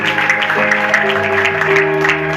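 A church congregation claps for Jesus in a steady run of sharp beats over sustained singing and music.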